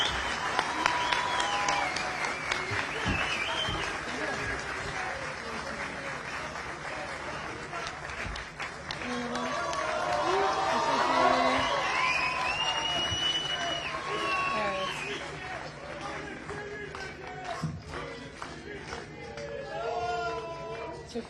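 Audience applause for volleyball captain Eda Erdem at her statue unveiling ceremony, a steady crowd clapping that swells in the middle, mixed with cheering and some background voices throughout.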